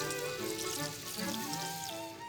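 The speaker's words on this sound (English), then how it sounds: "A little vegetable broth, just to barely cover." Vegetable broth is poured into a pot over ribs, a short, faint, continuous liquid pour and splash.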